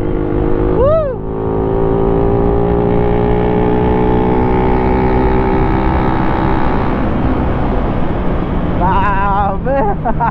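A Kawasaki Ninja 1000cc motorcycle engine runs loud and close in Anda, Pangasinan, with a sharp rev early on over a steady droning note; voices chime in near the end.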